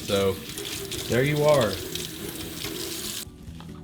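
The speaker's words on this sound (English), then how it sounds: "And here we are rinsing the cilantro." Tap water runs into a kitchen sink while cilantro is rinsed, a steady splashing heard under brief talk, then cut off near the end.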